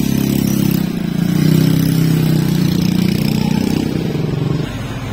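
A motorcycle engine runs steadily nearby, a low throbbing idle that holds at an even level for the whole stretch with no speech over it.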